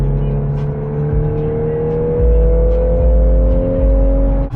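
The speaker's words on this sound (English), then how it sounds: "I was revving, redlining like a mug" A VW Golf R held in manual mode drones loudly from close by as its engine climbs steadily in pitch toward redline, with the tone rising smoothly and no break.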